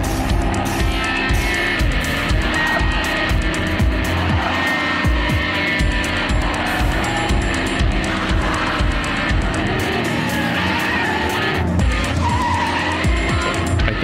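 Loud, continuous racing car engines roar and whine, with repeated tire skids and squeals layered over busy game-style background noise from the video game Renzo Racer, no talking.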